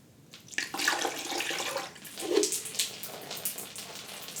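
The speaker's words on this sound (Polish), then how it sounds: "Dolejmy ostatnią partię wody" Water is poured into the body of a ukulele, a soft gushing and splashing pour with gurgling bursts, fairly faint and close, with no talk over it.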